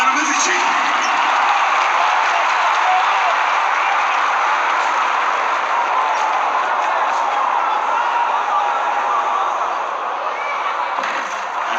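A crowd applauds at a Galatasaray–Beşiktaş basketball game, a dense, steady roar of clapping that fills the arena loudly throughout and eases slightly toward the end.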